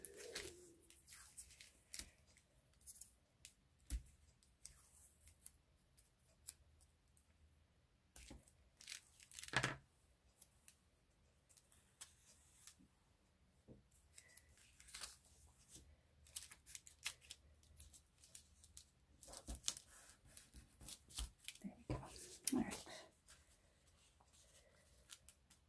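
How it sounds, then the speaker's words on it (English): Tape being torn and pressed into place at a desk, scattered soft rips, crinkles and taps, faint and close, with quiet gaps between bursts over about twenty-five seconds and no talking. "But I'm going to tape it in place."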